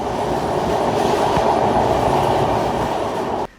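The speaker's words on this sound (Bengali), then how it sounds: "শহরের কোলাহল ছেড়ে পদ্মা সেতু পাড়ি দিয়ে আমাদের ট্রেন ছুটছে দানবের গতিতে।" Benapole Express passenger train speeding on rails after crossing the Padma Bridge, heard from on board as a loud, steady rumble and wheel rattle that holds throughout before cutting off abruptly at the end.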